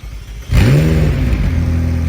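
A hypercar engine at a supercar show fires up with a sudden loud crank and rising revving whine, then settles into a strong, steady, nearby idle.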